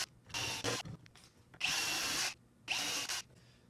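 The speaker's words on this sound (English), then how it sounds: "Now I've got the backs drilled." A power drill whirs in three separate bursts, each lasting under a second, close by, with quiet pauses between them.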